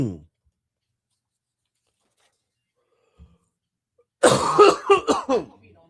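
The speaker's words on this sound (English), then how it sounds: "It's just a cough." A short cough up close, then a long silence, followed by a burst of several harsh, rasping coughs in quick succession.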